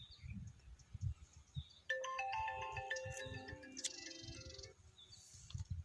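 A phone's electronic ringtone melody plays for about three seconds, fairly quiet, between bursts of muffled talk in a comedy skit.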